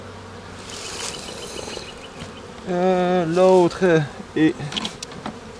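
Honey bees buzz over a hive frame in a steady, close hum, and a voice speaks briefly over them.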